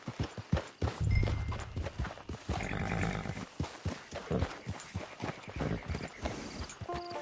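Horse hooves clip-clopping in the video game Red Dead Online, a steady run of sharp, close hoofbeats on hard ground, with a rumbling stretch in the middle and faint background game sounds.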